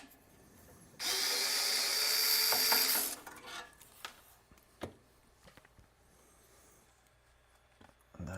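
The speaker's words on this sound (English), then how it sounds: "Just take all these screws off" A power driver removing screws from a 3D printed electronics enclosure gives one loud, close whir lasting about two seconds, followed by quieter clicks and handling knocks.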